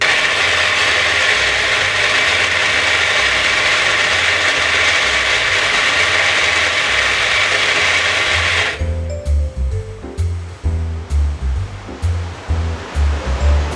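Coffee grinder grinding beans to a fine espresso grind, a loud steady whirring roar for about nine seconds that cuts off abruptly, followed by quieter clicks and taps of the grounds being handled.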